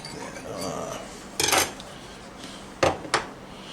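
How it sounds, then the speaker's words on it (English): A garlic press crushes a clove of garlic into a measuring cup, making a few short metallic clacks and squeezes with quiet gaps between them. "I'm going to press a clove of garlic right into my measuring cup here"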